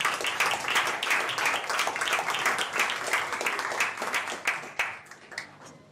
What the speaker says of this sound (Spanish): os pido un fuerte aplauso para él